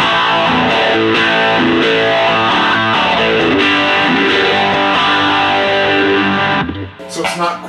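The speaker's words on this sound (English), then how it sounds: "it's not quite as modulated because the distortion's coming after the phaser" Guitar loop through a ToadWorks Roundabout looper with a phaser placed before distortion, a loud, continuous, heavily overdriven swirling tone that stops abruptly near the end, followed by a short fading tail.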